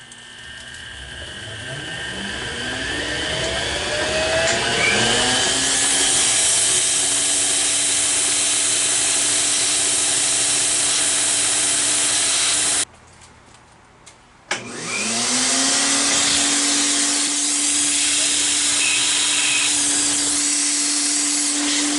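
A Clausing Model 100 lathe running in back gear trims down a large chuck plate, a steady loud machining hum with a tonal whine that drops out briefly, then resumes.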